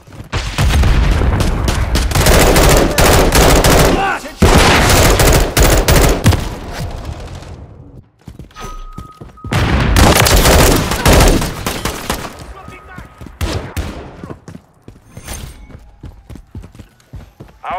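Grenade explosions and gunfire in a Call of Duty video game: loud, dense bursts of rapid fire and booming blasts in two long volleys with a short lull between, followed by quieter scattered shots and game sounds.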